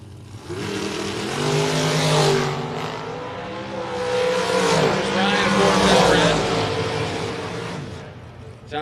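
Dragsters at a drag strip, among them the Watson McDaniel dragster, roaring off the line with a loud, sustained engine blast that swells, dips and swells again. An announcer talks over it.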